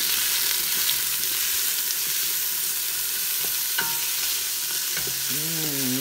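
Red and white onions fry in a pot for chicken soup, a loud steady hiss with occasional soft scrapes and a brief wavering tone toward the end.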